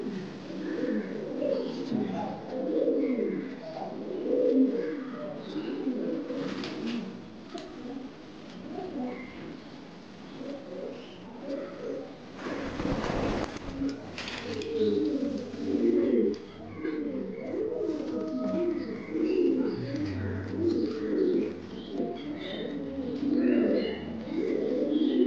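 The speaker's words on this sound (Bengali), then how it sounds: "এটা ভাই হচ্ছে হলুদ পটার" Yellow pouter pigeon, a big fancy European breed, cooing steadily with layered, rolling low coos that continue throughout, while someone talks intermittently alongside the birds.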